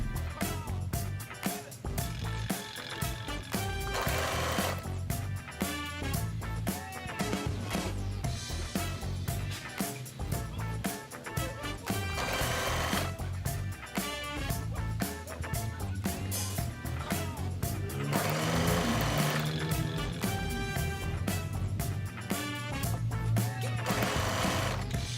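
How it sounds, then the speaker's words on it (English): A sewing machine sews sleeves onto a thrifted t-shirt in repeated runs of fast, loud stitching, separated by short pauses, and keeps going for about twenty-five seconds. "Sewing the sleeves was not an easy task. I had to really do it slowly."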